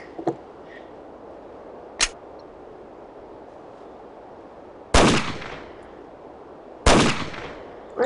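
Gunshots in a first-person shooter game set on an oil rig: four sharp, isolated reports spaced a couple of seconds apart, the last two louder and followed by short echoing tails.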